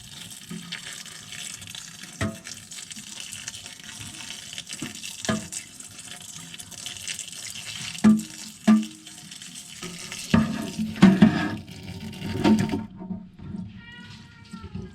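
Water runs and splashes steadily over a seed-sprouting tray as a rinse, with brief louder gushes and spatters toward the end.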